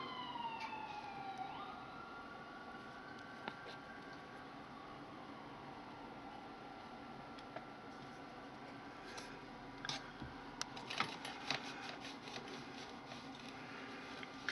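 Distant city emergency vehicle sirens sweep in pitch early on and fade into a low urban hum, with faint clicks and knocks later and no speech.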